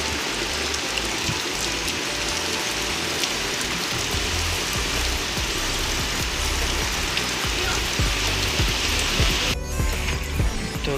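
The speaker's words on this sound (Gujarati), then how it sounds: "બહાર તો વરસાદ ચાલુ છે ફૂલ" Heavy rain pours down outdoors over a farm, a dense, steady roar of drops striking surfaces that continues loud and unbroken throughout, with no voices.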